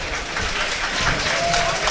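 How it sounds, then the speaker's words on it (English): Crowd applause rolling around a football ground as a player walks off to the changing rooms, steady and moderately distant beneath the ambient stadium noise. "There's the applause you can hear as Mingy goes round the ground back to the changing rooms"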